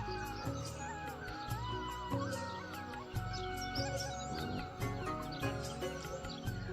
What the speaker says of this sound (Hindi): चिड़ियाँ चहक रही हैं सुबह सुबह बुजाणी में।